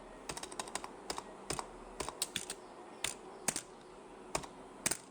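Typing on a computer keyboard while entering text in MS Word, with quick clusters of crisp key clicks separated by short pauses, close and moderately quiet, with no talking.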